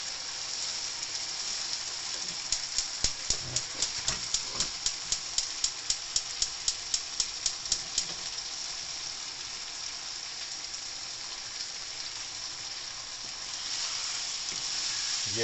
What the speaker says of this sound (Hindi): हमारे पास आज रखे हुए हैं नान बने हुए, तो हम नान गरम करेंगे